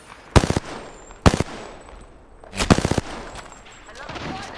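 Three short, rapid bursts of automatic C.A.R. gunfire ring out during a video game shootout, spaced about a second apart and sharp against a quiet background.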